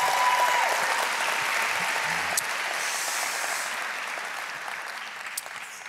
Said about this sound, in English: give him a hand clap right here in this place